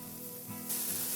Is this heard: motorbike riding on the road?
no